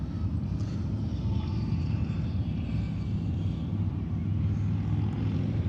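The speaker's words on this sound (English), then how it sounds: "A bunch of Harleys going by now." A group of Harley-Davidson motorcycles passes along a town's main drag, making a steady, heavy low rumble that holds throughout with no talking.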